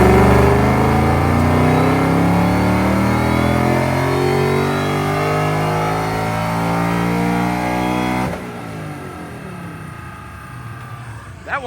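A supercharged Gen 2 Mustang with a GT500 blower revs hard on a dyno, a loud sustained engine pull with rising harmonics, cutting off abruptly near the end into a lower idle.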